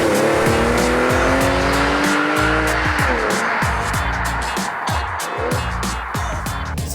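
The 3.6-litre naturally aspirated flat engine of a Porsche 911 revs hard and close, rising and falling in repeated pulls with a rasping, loud exhaust note that fills the whole stretch without talk.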